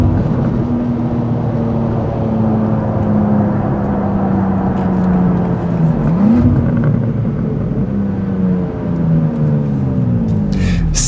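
BMW G87 M2 engine pulling hard under acceleration, a loud continuous drone with rising and falling pitch sweeps as gears change, heard from inside the car with road rumble beneath.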